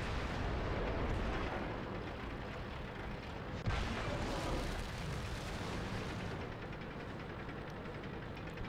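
Tank cannon fire in a T110E4 tank battle game: a continuous loud roar of explosions and engine rumble, with a sharper blast near the middle, and no speech.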